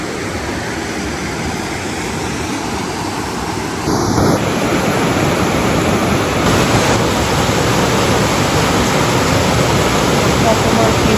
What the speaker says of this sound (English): Nothing more peaceful than the sound of rushing water,